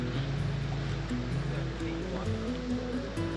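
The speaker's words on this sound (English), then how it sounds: "There's something very, very relaxing about the sound of water." Steady rushing water fills the scene, a continuous broad wash like a stream or surf close by, with faint low tones underneath.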